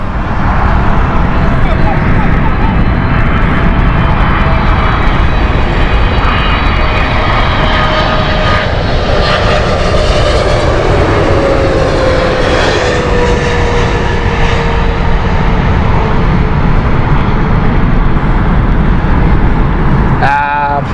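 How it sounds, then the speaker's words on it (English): American Airlines Boeing 777-300 arriving at Heathrow Airport: a loud sustained jet roar with a slowly falling engine whine as it passes, a commentator talking over it, and a brief click near the end. "American Airlines next, 777 inbound"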